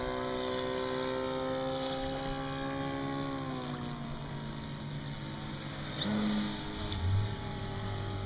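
The engine of a radio-controlled float plane on a lake landing drones steadily, then its pitch slides downward as it throttles back and fades, with a brief blip of a nearby sound near the end and no talk.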